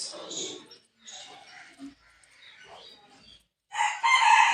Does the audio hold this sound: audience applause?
no